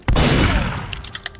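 A single sharp gunshot rings out in the Roblox game Murder Mystery 2, a loud crack with a ringing metallic tail, followed by a few faint clicks and small taps as the sound dies away.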